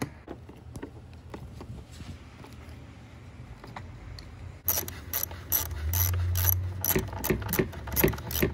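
T25 screws on a BMW 5 Series F10 blower motor cover driven in with a ratcheting tool, rapid clicking pawl strokes close up, softer at first, then louder bursts of ratchet clatter in the second half.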